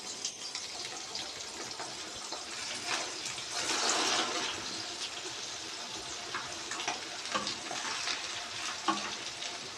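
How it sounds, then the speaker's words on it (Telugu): Fish pieces fry in hot oil for a dum biryani, a soft continuous sizzle and crackle heard close with a brief louder swell, no talking. "ఇది గోల్డెన్ బ్రౌన్ కలర్ వచ్చే వరకు 2 సైడ్స్ కూడా ఫ్రై చేసుకోవాలన్నమాట."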